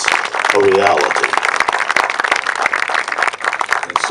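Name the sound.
audience applause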